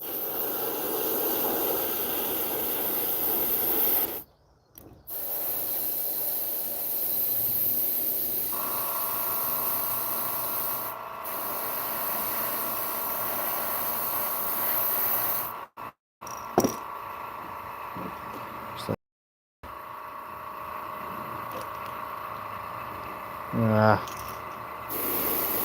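An airbrush sprays paint onto fishing lures with a long continuous hiss, interrupted by several short gaps as the sprayer stops and restarts, with a faint tonal hum running underneath.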